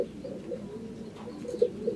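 A racing pigeon coos softly and repeatedly at close range, a low throaty rolling call with no voices present.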